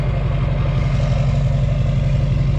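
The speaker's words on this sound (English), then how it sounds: "I love how you can hear the turbo in a way" Duramax LBZ diesel pickup with a 5-inch exhaust running steadily nearby, a loud, continuous low rumble with a rhythmic idle-like pulse and faint turbo hiss, no talking.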